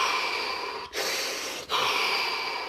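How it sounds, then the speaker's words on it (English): Long, deep breaths come close and loud during a guided relaxation body scan, each broad airy rush broken by two brief pauses as the breath turns. "3 deep breaths."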